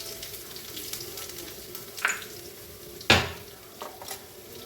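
Cumin, mustard seeds, dried red chillies and crushed garlic tempering in hot oil give a steady, quiet sizzle, with two sharper bursts and a few soft spatters or pan scrapes near the end.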